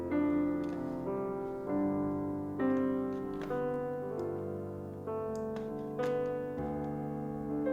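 A Kurzweil keyboard plays a slow melodic stem alone, sustained chords and single notes ringing in overlapping phrases with gentle swells and decays, clean and close with no voices.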